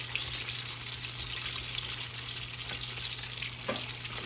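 Continuous bubbling sizzle of fried pies deep frying in oil, steady and close, with a low hum underneath and no speech.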